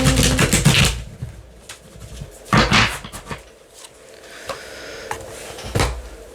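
A deck of tarot cards is shuffled by hand in uneven bursts of papery riffling and flicking, loud and close, separated by short quieter gaps, with no talking.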